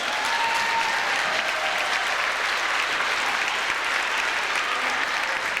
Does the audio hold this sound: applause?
yes